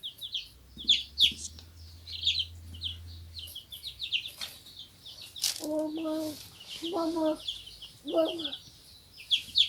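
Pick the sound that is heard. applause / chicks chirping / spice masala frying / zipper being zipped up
chicks chirping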